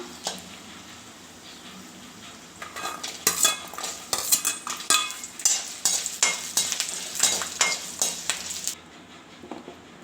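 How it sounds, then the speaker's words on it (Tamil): Pepper, ginger, garlic and cumin lightly roasting in a pan, faint low sizzle at first, then a run of sharp metal spoon clinks and scrapes against the pan, close and rhythmic before stopping abruptly. "இப்போ இதில் நாம் எடுத்து வச்சுருக்கிற மிளகு இஞ்சி துண்டு பூண்டு சீரகம் எல்லாத்தையும் போட்டு லேசாக வறுத்து எடுத்து வச்சுக்கலாம்"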